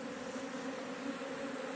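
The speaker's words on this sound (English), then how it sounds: "Look, there's a bunch of bees here." Honey bee swarm buzzing nearby, a faint, steady drone that holds evenly without breaks.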